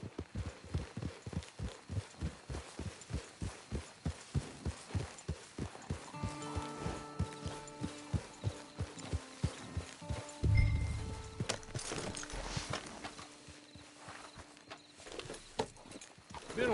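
Horses' hooves clip-clop in a steady, fairly close walking rhythm, slowing and fading after a few seconds as the horses arrive at a camp, with brief background voices and a low thump partway through.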